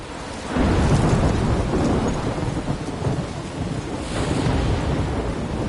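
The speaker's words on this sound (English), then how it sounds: "I'm trapped in a storm?" Storm sound effect with thunder, rain and gusting wind: a deep rumble builds after a quiet opening, then continues as a loud, steady wash of rain and wind with a swelling second roll near the end.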